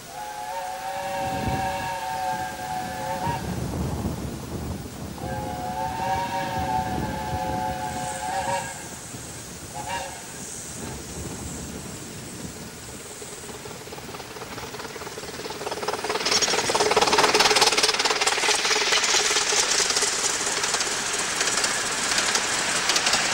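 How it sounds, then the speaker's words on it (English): Romney, Hythe & Dymchurch Railway miniature steam train running out across open shingle, with repeated shrill whistle blasts early on, then a rising hiss and rumble of the passing train that grows louder toward the end. "the train leaves the houses behind and runs out across the shingle"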